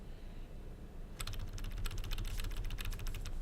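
Computer keyboard keys clatter in a rapid burst after a second of quiet hum, many crisp close taps in uneven quick succession, heard alone without voices.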